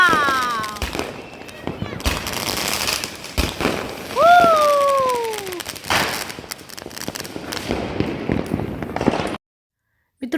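Diwali firecracker string bursting in rapid succession, a dense series of sharp cracks and pops with a whistling rise in the middle, loud and close, ending abruptly in silence.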